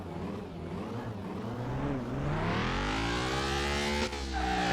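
Tires squeal in the Car Mechanic Simulator 2021 video game, a loud, steady rising whine with strong engine tones underneath, building over several seconds and continuing without a break.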